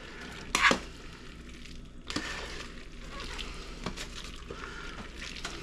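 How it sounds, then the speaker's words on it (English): Slotted spoon scooping gloppy tuna noodle casserole mixture into a baking dish makes a few sharp scrapes and knocks against the dish, with soft wet stirring and squelching between them, close up and without talk. "Take this gloppy mixture, and we add it to our baking dish. I'll use the slotted spoon for this"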